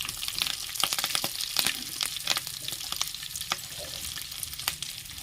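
Green chillies and curry leaves fry in melted cream in a pan, giving a soft, continuous sizzle with sharp crackling pops scattered throughout and no voices.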